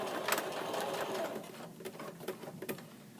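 Domestic sewing machine running a reverse stitch on a pant pocket: a quick rhythmic needle clatter that slows into a few separate taps near the end, heard close.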